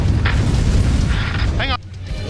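A weapon fires in the video game Brütal Legend, a loud booming blast with heavy low rumble that cuts off abruptly, followed by a brief whoosh and near quiet.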